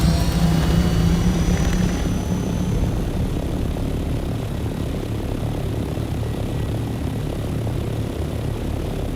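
Chopper flying in the survival game Dune Awakening, a steady loud engine drone with a throbbing rotor rumble, droning on evenly throughout with no talk.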